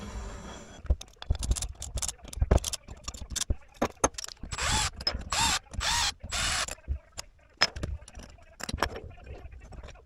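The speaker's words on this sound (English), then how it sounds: "I'm going to pull these screws back out" Irregular metallic clicks and ratcheting as screws are removed from the crankcase of an IAME KA100 kart engine, close and busy with short bursts of tool noise and brief pauses.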